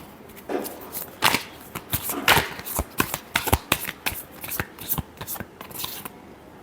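A tarot card deck being shuffled by hand, a close series of crisp riffling and slapping bursts with irregular sharp snaps, ending in a few final taps.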